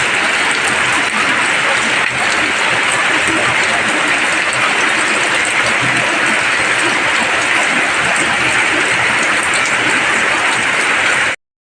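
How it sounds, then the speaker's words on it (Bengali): Heavy rain pours down hard over an open field, a loud, dense, unbroken hiss and patter that continues steadily until it cuts off abruptly. "এত জোরে বৃষ্টি হচ্ছে।"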